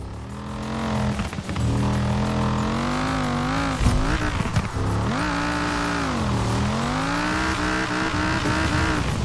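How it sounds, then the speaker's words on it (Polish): A car drifts in Forza Horizon 4 on a track in winter conditions, engine revving loud and wavering in pitch while tires squeal continuously, with a brief lurch midway. "Furka już driftuje i brzmi fantastycznie"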